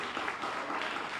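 Dense crowd applause at a Hall of Fame induction ceremony, steady and sustained throughout with no voices on top.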